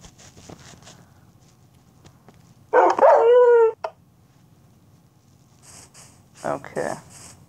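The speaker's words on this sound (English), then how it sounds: "Oh my goodness, I'm a wolf. I'm a dog." A wolf or dog in a video game morphing map mod gives a short, loud bark or growl burst in an otherwise quiet scene. Fainter yips follow a few seconds later.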